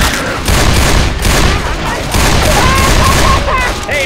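Rapid bursts of gunfire from the video game Left 4 Dead 2 crackle loudly and almost continuously, with a short lull around the middle, while faint game voices run underneath.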